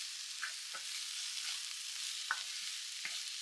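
Onions and shallots fry in a pan with a steady, soft sizzling hiss, and a spoon stirs them now and then with a few faint scrapes.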